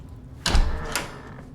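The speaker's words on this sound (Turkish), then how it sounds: "Buna kapı öyle mi açılır ya?" A door opens in the horror video game The Outlast Trials with a heavy thud followed by a short creak or scrape, then quieter room tone.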